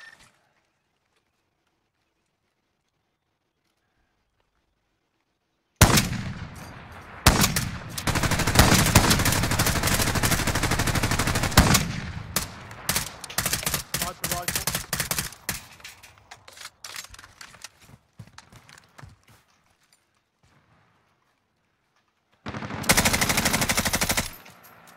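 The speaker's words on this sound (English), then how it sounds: "That guy shooting at his teammate" Loud, dense bursts of automatic gunfire in Call of Duty: Modern Warfare, firing in sustained rapid volleys that thin into scattered shots, then a pause before another heavy burst.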